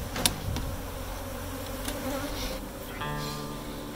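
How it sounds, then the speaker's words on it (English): Honeybees from a hive being cut out of a tree, a dense steady buzzing swarm close by, with a few sharper passes and knocks as they are shaken into a box. "We're gonna try to shake these bees into the box"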